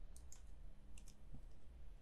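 Faint, quick computer mouse clicks, a few sharp ticks in pairs over a low steady background hum, with no voices.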